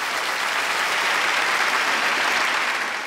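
A studio audience on a TV show applauding, dense steady clapping filling the room for the whole stretch.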